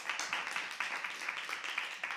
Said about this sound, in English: Just another round of applause for Ezekiel,